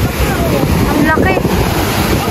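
Sea surf rolling onto a shore in a steady wash of broadband noise, with wind buffeting the microphone throughout and faint voices behind it.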